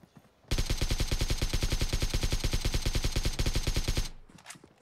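A rapid, steady burst of automatic gunfire in a video game, loud and close, rattling continuously for about three and a half seconds before cutting off abruptly.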